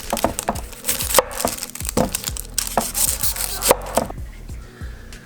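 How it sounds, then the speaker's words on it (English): Green onions are chopped with a knife on a cutting board, giving a steady run of quick, close, crisp taps and thuds. "I'm going to chop those up as well. So let's get started with the chopping."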